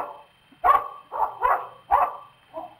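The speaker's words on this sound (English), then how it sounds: "That was a dog bark." A dog barks about five times in an uneven rhythm, close and fairly loud, heard without talk in a 1961 television comedy show.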